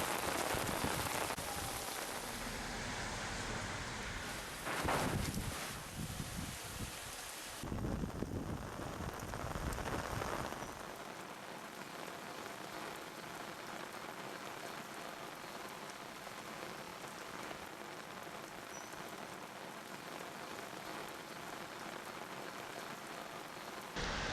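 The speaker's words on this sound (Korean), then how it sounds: "오늘도 전반적 지역에서 비와 소낙비가 내렸습니다" Steady rain and passing showers fall on surfaces, a dense continuous hiss of drops heard alone, louder and rougher in the first ten seconds, then settling into a softer, even patter.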